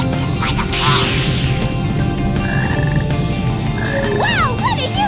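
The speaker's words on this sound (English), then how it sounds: "Wow, what a huge frog!" A huge frog in Sonic Heroes gives loud, close, repeated croaks over busy game sound effects and music.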